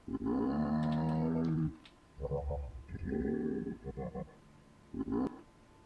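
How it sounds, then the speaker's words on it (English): Deep, groaning giraffe calls from the video game Vintage Story come in several drawn-out bursts separated by short pauses, rough and resonant, moaning rather than roaring. "I wonder if that is the sound of a giraffe"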